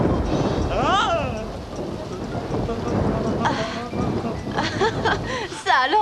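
Steady rain hisses through a thunderstorm in a children's show from 1993, with a broad rumbling wash of noise underneath while voices talk over it almost the whole time.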